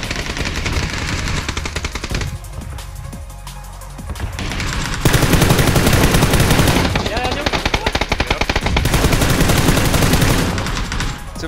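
Rapid automatic gunfire from the battle royale game PUBG, with bursts of machine-gun fire and scattered shots, loud and dense, especially in the second half, with occasional voices talking underneath.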